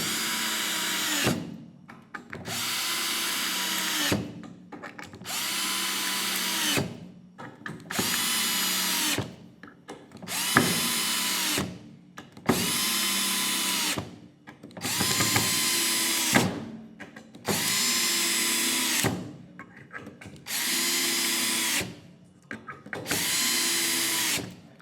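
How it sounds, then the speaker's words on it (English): A Milwaukee M12 Fuel cordless drill runs in repeated bursts of about two seconds each, whining up and winding down, with brief pauses between, close and steady in rhythm. "We'll see if either drill gets the job done any quicker."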